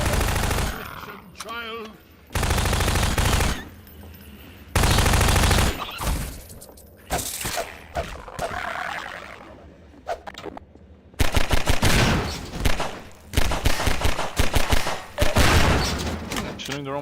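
Bursts of automatic gunfire in Half-Life 2's Ravenholm, loud and close, coming in several separate volleys with pauses between them, with a voice speaking in the gaps.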